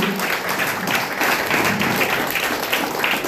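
Dense, steady applause from a seminar audience, many hands clapping together at full strength throughout with no voices rising above it.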